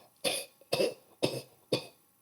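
Four forceful, evenly spaced cough-like breath bursts from a breath-of-fire breathing exercise, about half a second apart, sharp and close with quiet gaps between.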